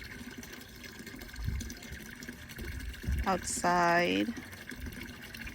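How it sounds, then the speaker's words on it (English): Water flows in a garden pond outdoors with a soft, continuous splashing and trickling. A person speaks over it, and the water stays in the background. "what I wanted in this garden is to have the sound of water"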